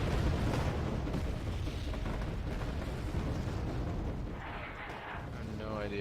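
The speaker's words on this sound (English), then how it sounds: "I think that's grenade launcher tracers" Grenade launcher fire and explosions in the video game Wargame: AirLand Battle, a dense rumbling barrage of booms and blasts rolling continuously, loud and low, with a faint voice briefly audible near the end.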